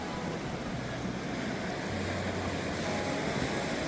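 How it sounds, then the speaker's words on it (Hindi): Sea waves at high tide wash onto Radhanagar beach on Havelock Island at night, a continuous soft roar of surf with some wind, fairly quiet and without talk. "ये देखो जी, हाई टाइड आ गया, पानी यहाँ तक आने लग गया।"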